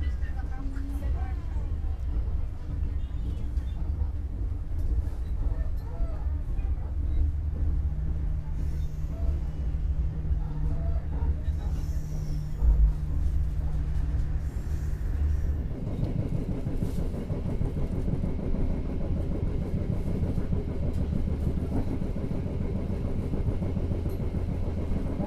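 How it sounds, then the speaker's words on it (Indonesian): Serayu economy-class train pulling out of Jakarta Pasar Senen station, a steady low rumble of engine and rolling wagons that shifts character midway, with announcements or voices faintly underneath. "kereta api Serayu diberangkatkan dari stasiun Jakarta Pasar Senen"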